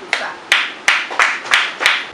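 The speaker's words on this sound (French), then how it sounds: "on peut s'applaudir pour ça." Six sharp, evenly spaced hand claps from a small audience, close and clear with a steady rhythm and nothing else over them.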